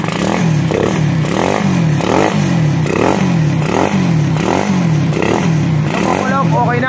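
A Raider 150 motorcycle engine fitted with a manual tensioner revs repeatedly in steady pulses, loud and close, with a mechanical clatter and carburetor noise running through it.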